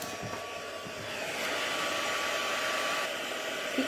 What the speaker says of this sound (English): quickly heat emboss that